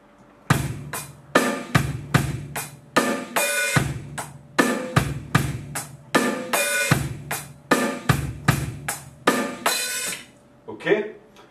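A drum kit plays a bar of a rock beat, with sharp, steady hits and cymbal crashes landing in a driving, repeated rhythm. The playing is close and clear, with no talking.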